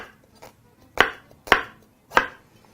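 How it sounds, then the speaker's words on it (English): A knife chops an onion finely on a cutting board in a few crisp, evenly spaced thuds, about three loud strikes after a softer one, close up with no voices. "And very simply proceed to chop that very, very finely."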